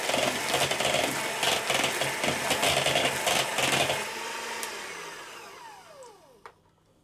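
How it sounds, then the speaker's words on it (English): Electric whisk beating cream for a lemon sandwich cake to soft peaks, a steady loud motor whir that runs for about four seconds, then winds down and stops, leaving faint kitchen clatter. "And whisk that until it's a sort of soft peak stage"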